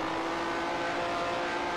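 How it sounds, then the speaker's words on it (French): A Ferrari race car in the racing game Grand Prix Legends drives close alongside, its engine a steady, loud buzzing drone that holds through the whole short stretch. "Je crois que c'est une Ferrari à côté de nous."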